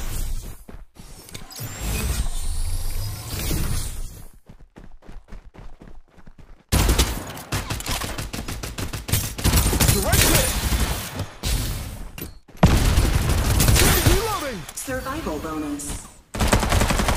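Gunfire in the battle royale shooter Farlight 84: sustained automatic bursts and rapid single shots fill most of the clip, broken by a short lull, with game voice lines and effects layered over the shooting.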